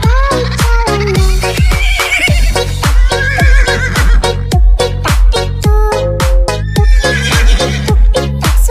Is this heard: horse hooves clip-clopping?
yes